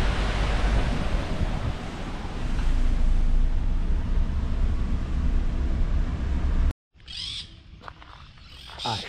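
Water rushes and roars steadily at the spillway of a dike, a loud broadband wash filling most of the clip before cutting out abruptly, followed by quieter scattered sounds.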